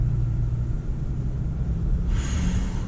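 A Bentley Bentayga W12 with an eight-speed torque converter gathers speed at light throttle, a deep steady rumble filling the cabin with a faint rising whine near the end; no talking.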